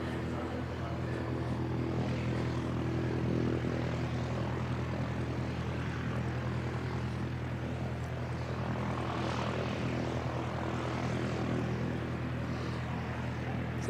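Air New Zealand flight NZ5751 airliner departing for Dunedin at Christchurch Airport, a steady, loud engine roar that holds evenly throughout with a low droning hum and no talk.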